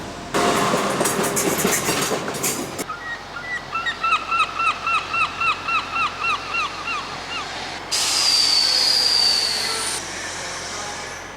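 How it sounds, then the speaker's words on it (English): A train passes close by in Wales, UK, loud rumbling with a steady clickety-clack rhythm of wheels, and a brief high squeal near the end. "Here comes another train."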